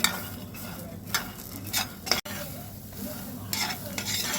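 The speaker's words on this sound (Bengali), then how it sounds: "প্রথমে শুকনো খোলায় এই কড়াইশুঁটিগুলোকে ভেজে নিতে হবে।" Green peas dry-roasting in a hot pan without oil, with a soft steady sizzle and repeated scraping strokes of a spoon stirring them, close and continuous.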